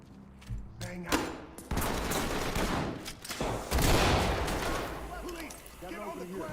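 A flashbang and smoke grenade go off during a tactical room breach in the shooter game Ready or Not: sharp bangs and a loud hissing rush over several seconds, with a player's voice talking over parts of it.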